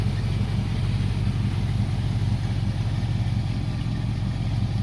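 A ground-up restored 1957 Chevrolet classic car idles at an outdoor auction, its engine giving a steady, low, even rumble that holds constant throughout with no talk over it.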